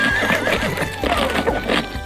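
Horses neighing and whinnying, shrill calls rising over a steady low rumble, with continuous noisy activity throughout.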